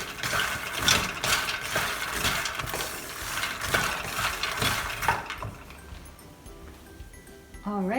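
Makhana fox nuts dry roasting in a pan over a medium-high flame, loud rattling and clattering as they are stirred and tossed for about five seconds, then fading to quiet.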